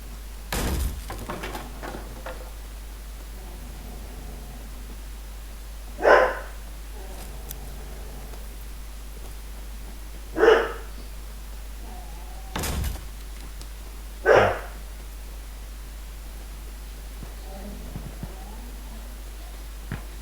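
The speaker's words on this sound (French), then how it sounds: "Désolé si vous entendez, c'est mon chien." A pet dog barks off-mic in a home during a live stream of the game Insurgency Sandstorm, giving several single sharp barks spaced a few seconds apart over a quiet background with low game sound.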